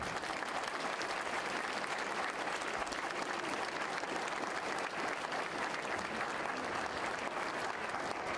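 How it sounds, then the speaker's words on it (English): An audience applauds the evening's event sponsors with steady, dense clapping that holds at an even level throughout, with no talk over it. "So please join me in applauding all our sponsors this evening."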